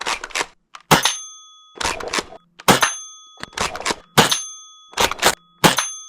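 A cheap gel blaster shotgun fires gel balls at a target in a series of sharp, ringing cracks, about seven shots spaced roughly a second apart, each with a brief metallic ping.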